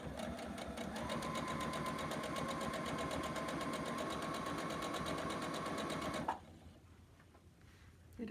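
Sewing machine chain piecing quilt pieces, a steady rapid mechanical whirring run for about six seconds before stopping abruptly into near quiet.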